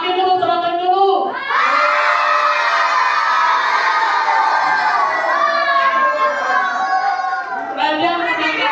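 Elementary school children at a scout camp cheer and shout together on cue, a loud sustained crowd roar of young voices that swells, briefly dips, then rises again in a second burst.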